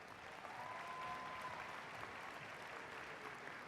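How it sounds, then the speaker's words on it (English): Sustained applause from a large audience at a university graduation ceremony for College of Education master's graduates, steady and moderately distant clapping throughout. "a round of applause for the master's graduates from the College of Education"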